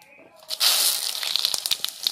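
Cumin, dried chilli and bay leaf hit hot oil for tempering, a sudden loud sizzle that flares up and then crackles and spits steadily.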